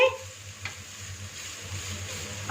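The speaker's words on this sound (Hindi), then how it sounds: "उसमें बारीक कटी हुई गाजर शामिल कर देंगे। इसको 1 मिनट तक फ्राई करेंगे।" Finely chopped carrots sizzle gently in a tablespoon of cooking oil in a frying pan over low heat, a faint, steady crackle with a soft stir or two.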